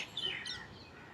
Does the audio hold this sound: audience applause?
no